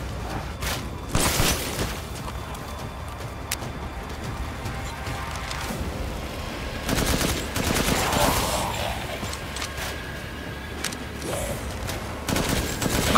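Gunfire in the video game Resident Evil Village: a rapid fusillade of loud shots with booming impacts and scattered bursts throughout, mixed with game ambience and brief exclamations.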